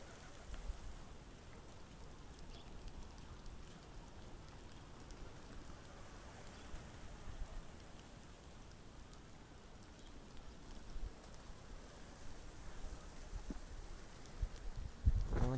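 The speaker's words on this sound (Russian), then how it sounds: "дождь идет." Rain falls steadily in gusty wind in Baku, a soft continuous patter of drops with occasional louder hits and faint wind rustle throughout.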